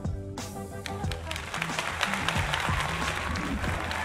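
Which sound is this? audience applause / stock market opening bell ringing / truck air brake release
audience applause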